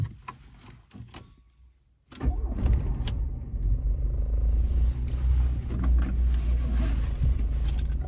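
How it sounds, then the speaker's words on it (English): A VW Polo Mk2 breadvan starts with a short cranking burst, then settles into a steady, loud, close engine rumble as it pulls away and drives, with no talking. "let's take this little Polo out for a drive"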